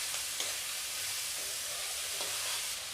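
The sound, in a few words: pumpkin frying in a pan on a gas stove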